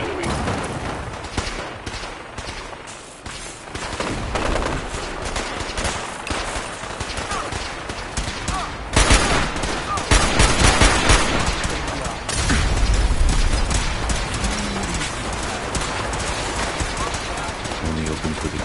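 Gunfire in Fallout 4 rattles continuously through a dense game mix, with rapid bursts and a louder stretch of heavy shooting midway, under a steady bed of combat noise and a voice speaking.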